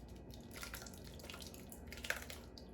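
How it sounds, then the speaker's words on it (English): Hot sauce being poured over oxtails in a home kitchen, giving a faint, steady liquid trickle with light drips and a small splash near the end, soft and close with no talking. "I'm going to take it and I'm going to pour it over the"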